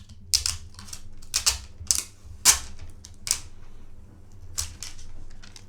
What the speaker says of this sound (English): It is wrapped in a bit of plastic, so I'm gonna take this off.